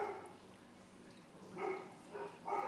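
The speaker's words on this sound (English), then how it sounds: "Sorry about the dogs." Dogs outdoors behind a fence give a few barks and yips toward the end, fairly faint over a steady background hiss.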